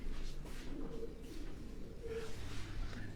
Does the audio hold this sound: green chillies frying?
no